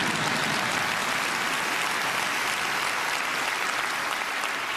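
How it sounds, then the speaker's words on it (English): Dense, steady applause from a large audience at the Kennedy Honors, a continuous even wash of clapping with no talk over it. "I was just saying you could clap"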